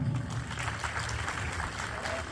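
Audience clapping at a Hindi poetry recital of verses devoted to women's strength, a steady, dense patter of applause filling the clip at moderate loudness without pause.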